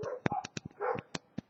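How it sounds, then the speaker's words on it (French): A dog barks loudly outdoors in a quick series of sharp yips and barks, several bursts in about a second and a half, with no voices over it. "Et ça aboie assez fort dehors, je sais pas si vous entendez."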